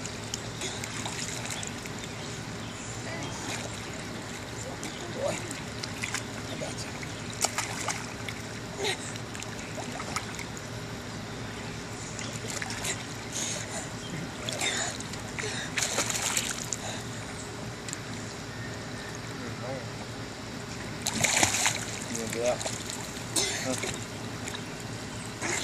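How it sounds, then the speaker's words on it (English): Water splashes and sloshes in a backyard swimming pool during rough play, light irregular splashes under frequent talking and laughter from people in the pool. "Avery, you're splashing me."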